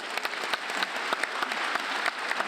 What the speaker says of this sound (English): Yes, applause to our audience.